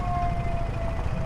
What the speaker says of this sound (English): Ambulance is stuck.